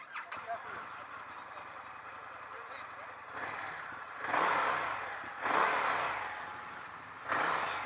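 An Indian FTR 1200 motorcycle rides off, its engine swelling in three loud revving surges of acceleration with quieter gaps between them, recorded up close on the bike.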